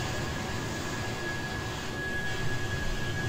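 A passenger airplane coming in to land in Train Simulator 2016 produces a steady jet engine roar with a faint constant whine, moderately loud and without speech.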